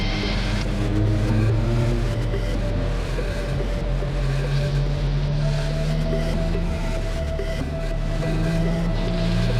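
A car engine revs and drives off in a scene from the 1968 film Night of the Living Dead, a loud, steady, rumbling roar that holds for the whole stretch with no pause.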